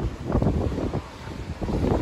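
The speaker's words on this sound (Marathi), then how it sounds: "इथं वारा मात्र खूपच आहे" Strong wind gusts buffet the microphone at a reverse waterfall near Patan, a steady low roar swelling and easing in repeated surges with no voices.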